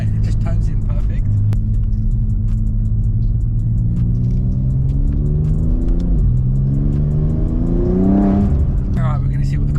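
A BMW M3 Touring on a road test: a steady, close engine drone from inside the car, with revs climbing and falling through the gears and a strong surge near the end.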